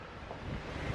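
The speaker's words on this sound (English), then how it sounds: "It's so windy. It's gonna make my vlog sound bad." Strong outdoor wind buffets a microphone in a steady, rough roar that fills the whole second with no voices over it.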